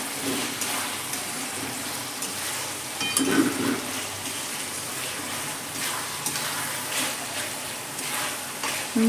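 Sliced tomato with salt cooking in a spice masala for a spicy chicken curry, a continuous close sizzle with occasional stirring scrapes and a brief utensil knock.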